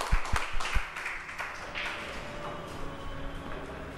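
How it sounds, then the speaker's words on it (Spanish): An audience at a poetry and space talk applauds the speakers: a few sharp, close claps at the start trail off into a softer, scattered patter. "Un aplauso para ellos."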